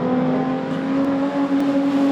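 Production sedan race cars circling a speedway dirt track during a national title B-Main, a steady loud engine drone with sustained tonal hum throughout, no voices.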